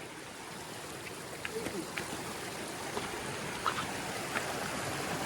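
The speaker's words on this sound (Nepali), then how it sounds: "पानीको साउन्ड चाहिँ दामी है" River water flows beside a jungle trail with a soft, constant rushing wash and a few faint splashes and clicks. The sound stays fairly quiet and distant.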